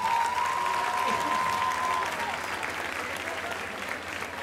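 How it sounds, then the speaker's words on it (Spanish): Applause from a folk concert audience, dense and sustained at even loudness throughout, with a faint steady tone and some crowd voices underneath. "quiero el mayor de los aplausos para la gente que hace el Perro Maldito."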